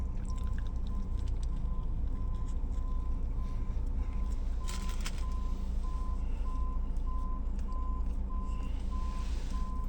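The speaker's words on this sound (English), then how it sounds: "had their backup alarm going back there" A truck's reversing alarm beeps steadily and evenly in the distance, repeating throughout under a heavy low engine rumble and background noise.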